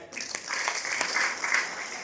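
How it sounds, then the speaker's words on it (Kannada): An audience at a Kannada religious discourse bursts into steady applause, a dense wash of many hands clapping together for about two seconds, moderately distant and not very loud. "ಜೋರಾದ ಚಪ್ಪಾಳೆ"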